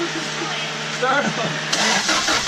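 A Toyota Tacoma's 2RZ engine fitted with an eBay turbo kit cranks over in a short burst at close range, with a person speaking over it.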